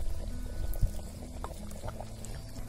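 Raw eggs cracked into a simmering Kolhapuri-style egg curry, a village-style egg rassa, heard as steady close bubbling and sizzling with a soft plop or two, and no talk.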